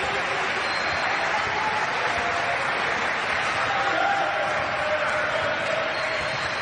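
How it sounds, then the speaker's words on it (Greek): Basketball arena crowd applauding throughout a Cypriot A1 league game between Apollon and E.N. Paralimni, a steady dense wash of clapping filling the whole stretch at even loudness. "ακούνε και τα χειροκροτήματα από όλο το κήπεδο."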